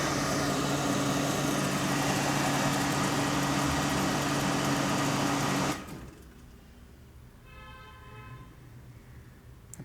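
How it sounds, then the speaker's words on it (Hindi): A home water pump motor hums steadily and loudly for several seconds, then cuts off abruptly, leaving a faint background with a few soft electronic beeps. "अब आप आवाज़ सुन ही सकते हैं कि हमारी मोटर चल पड़ी है।"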